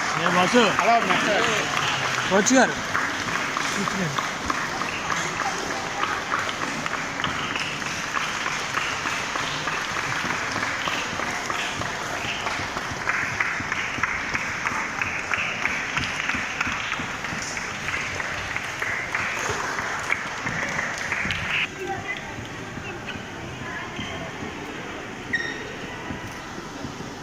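Applause at a public event where an MLA speaks, a long stretch of dense crowd clapping that fades toward the end, with a voice heard over it and scattered chatter.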